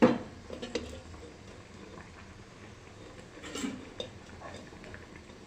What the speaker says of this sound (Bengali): ফুটে উঠেছে, চিংড়িগুলো এর মধ্যে দিয়ে দেব এবার।